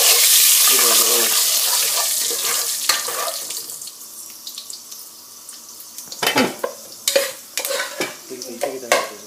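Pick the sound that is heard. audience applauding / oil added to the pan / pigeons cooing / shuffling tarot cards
oil added to the pan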